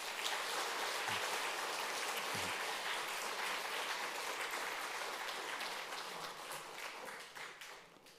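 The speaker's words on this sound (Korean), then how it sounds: "한번 큰 박수로 격려해 주시기 바랍니다." A church congregation gives sustained applause after a baptism service. The dense, even clapping holds steady for several seconds, then gradually fades near the end.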